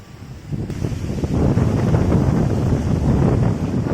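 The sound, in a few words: wind rustling through trees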